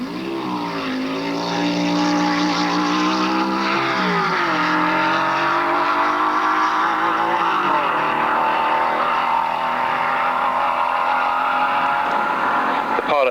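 Drag race start between a 3.4 Jaguar Model Y special and a Ford Pilot-based roadster: loud, sustained engine roar with rising revs and two gear-change dips, continuous and close throughout.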